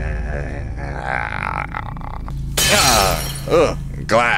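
A glass eyeball shatters in a video game, a sharp bright crash followed by a couple of quick crunching bursts, near and loud after a stretch of game sounds.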